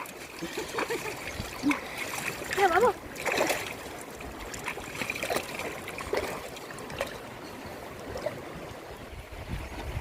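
Someone bathes in a river, making intermittent light splashes and trickling water sounds in open air, fairly close, with occasional voices.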